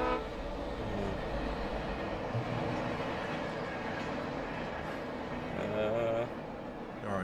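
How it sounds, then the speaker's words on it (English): Train rolling past in the video game Alan Wake, a steady continuous rumble filling the whole stretch with a horn-like tonal swell near the end, while someone talks over it. "Whoa, train."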